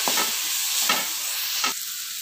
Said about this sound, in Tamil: ஃபுல் ஃப்ளேம்லேயே வச்சுட்டு அப்படியே வதக்கிறேங்க